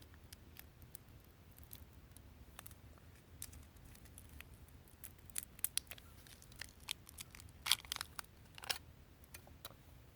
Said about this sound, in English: Going to take my Esbit fuel tab out of the packaging.